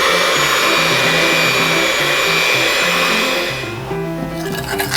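A stand mixer beats madeleine batter for matcha madeleines as melted butter streams in, its loud steady motor whirring continuously and dropping slightly in pitch near the end.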